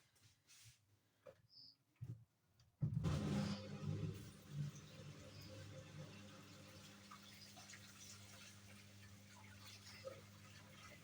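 Water drains from a twin tub top-load washing machine in a steady, low, rushing gush that starts after a few soft knocks and continues evenly to the end.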